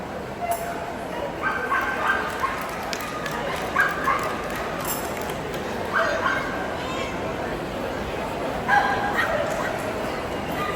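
A Shiba Inu at an indoor dog show gives repeated high yips and barks in short bursts, moderately close, over a busy hall with crowd chatter and a voice talking throughout.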